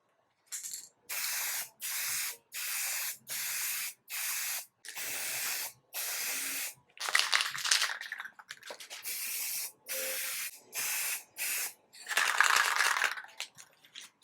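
Clear coat sprays from an aerosol can onto a Sealion 6 front car emblem painted gloss black, in a series of about a dozen short, even hissing bursts separated by brief pauses, with a few longer bursts near the end.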